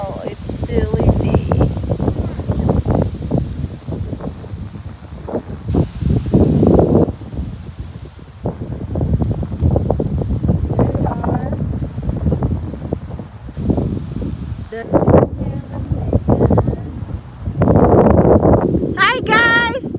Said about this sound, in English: Oh wow, it's still windy.